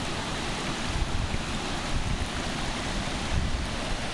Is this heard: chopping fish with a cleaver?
no